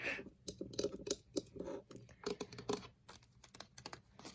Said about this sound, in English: This is a cute little typewriter.